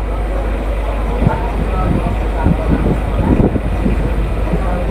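Local passenger train on the Howrah to Digha line rolling steadily near Ramnagar station, a continuous low rumble with rhythmic clatter and a few louder knocks, heard from inside the carriage.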